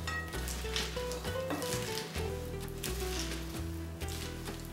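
A salad dressed with sumac and lemon being tossed in a bowl: a quiet, steady, crackly rustle of leaves and vegetables being mixed, with a low hum underneath and no talking.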